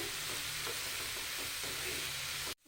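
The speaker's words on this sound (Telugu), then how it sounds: "హాఫ్ టీ స్పూన్ అంత సాల్ట్ వేసుకుంటే ఆనియన్స్ తొందరగా ఫ్రై అవుతాయి" Onions frying in a pan with about half a teaspoon of salt, making a quiet continuous sizzle with a few soft stirring sounds before it cuts off abruptly.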